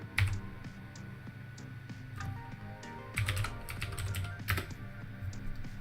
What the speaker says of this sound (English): And type it in there.